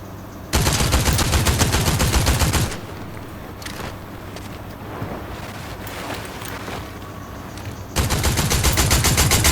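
Automatic weapon fire in the video game Fortnite, played on a PC: loud sustained bursts at the start and end, with quieter scattered shots and game sounds between.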